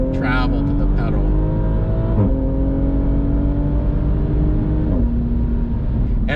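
A 2020 Toyota Supra engine revs hard with quick upshifts and downshifts, its tone stepping abruptly at each gear change, loud and close throughout.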